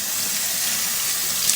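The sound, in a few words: water running through Omega Vert juicer parts while rinsing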